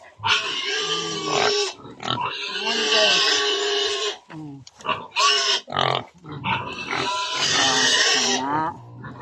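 A pig squeals loudly and near in long, harsh, repeated bursts with brief gaps, nearly continuous across the clip; no speech is heard.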